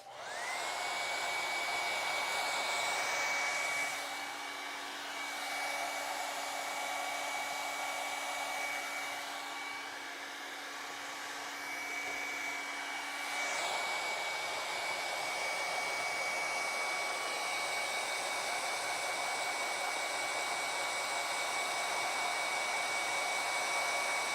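A hair dryer blows steadily to dry acrylic paint on a yellow flower painting, a loud continuous whooshing drone with a brief dip in pitch and level midway before resuming at full strength.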